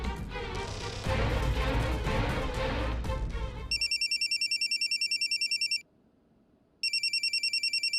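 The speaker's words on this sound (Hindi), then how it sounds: "डॉक्टर का फोन है।" Loud clatter and music-like noise, then a telephone rings in repeated rapid electronic trills, pausing briefly before ringing again.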